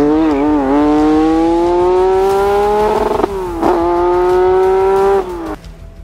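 A Lancia Stratos engine revs loud and close, its pitch climbing steadily through the gears, dipping briefly at each shift, then climbing again before the sound drops away near the end.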